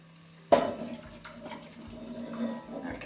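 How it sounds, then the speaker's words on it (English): Boiled tagine mixture poured from a pan over lamb in a kitchen, a sudden splashing pour that settles into a steady liquid trickle for a few seconds, close and moderately loud. "I'm going to turn it off and pour this on top of the meat."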